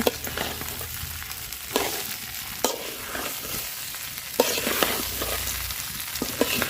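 Chicken and rice frying together in a pot for biryani, a steady close sizzle broken by several louder scraping stirs with a spoon throughout.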